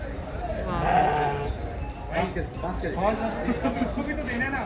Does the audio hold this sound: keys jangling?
no